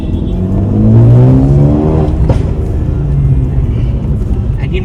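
A Mercedes A35 AMG fitted with a decat downpipe and stage 2 tune revs up, its engine note rising and swelling loudly near the mic, then settling into a steady drone, with a brief sharp crackle midway.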